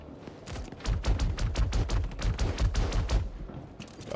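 Rapid bursts of automatic gunfire from a first-person shooter video game, a long sustained volley of loud, closely spaced shots that cuts off briefly near the end before another shot.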